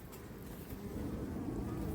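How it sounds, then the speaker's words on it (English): A faint, steady low hum of many honeybees buzzing together at a hive in a small box at an apiary, a continuous drone without breaks. "we can barely hear these bees."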